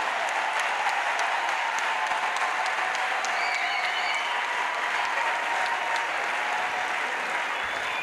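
At a large evangelistic crusade, a worshipping congregation keeps up a sustained, even roar of applause in praise of Jesus Christ, with a few sharper claps and faint whistles standing out near the front.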